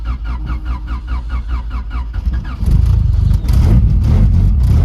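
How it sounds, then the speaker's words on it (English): A turbocharged sleeper car, a G23 turbo, starts on a cold day with a few rhythmic starter cranks before the engine catches and settles into a loud, rough idle close by. "Cycle the key twice. See how she likes to start."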